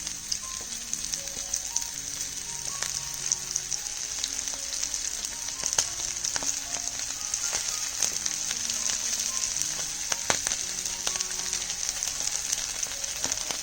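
Bangda (mackerel) frying on an iron griddle over a wood-fired stove, with a continuous close sizzle and scattered sharp crackles and pops of spitting oil.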